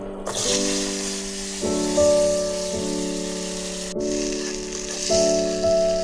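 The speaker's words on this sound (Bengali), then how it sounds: "টুকরো করে রাখা আলু দিয়ে নিচ্ছি।" Cut potato pieces go into hot oil already tempered with nigella seeds, and a bright, steady sizzle rises close by under a tonal melody that plays throughout, with no speech.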